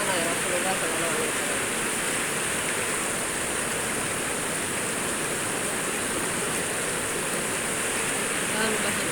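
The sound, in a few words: river water flowing during ablution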